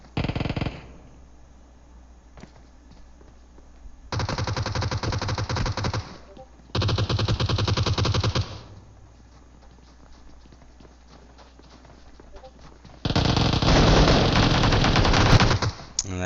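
Automatic gunfire bursts from a competitive online shooter match, loud and close, coming in three long sustained rattling volleys separated by quieter stretches with faint background noise.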